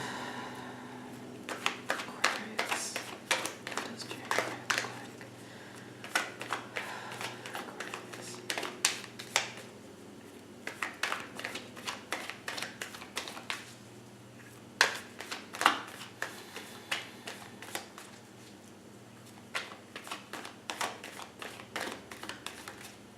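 Cards shuffled by hand in repeated riffling bursts with brief pauses, close and fairly quiet, with no talking.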